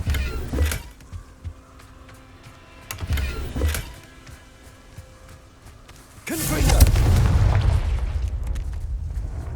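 Bombarda blasting spell in Hogwarts Legacy, a heavy booming explosion that erupts and rumbles on after a few quieter mechanical clicks and thuds.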